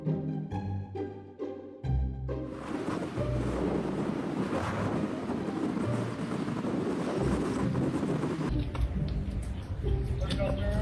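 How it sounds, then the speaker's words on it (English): Massive waves crash against a pier in Grand Haven, Michigan, giving a loud, continuous roar of surf and wind with heavy buffeting on the microphone, preceded by a few seconds of music. "massive waves crashed into a pier in Grand Haven, Michigan, creating a terrifying scene"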